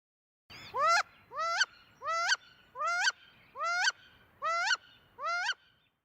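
A steady series of seven loud, rising squealing calls from a female wood duck, evenly spaced, each a sharp upward-sweeping 'oo-eek' note, close and clear.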